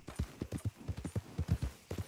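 Horse hooves clip-clop at a steady trotting rhythm in the Red Dead Redemption 2 video game, producing a run of muffled, evenly spaced thuds close by.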